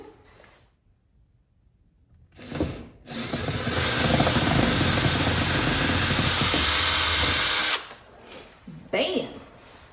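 A power drill unscrews a screw from a changing table dresser, running steadily for about five seconds after brief handling noises, loud and close, with short clatter afterward.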